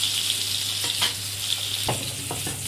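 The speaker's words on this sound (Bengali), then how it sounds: "এবার ওই আলুগুলোকে লাল লাল করে একটু ভেজে নিচ্ছি।" Small cut potato pieces fry in hot oil with a continuous close sizzle, broken by a few soft scraping stirs in the pan.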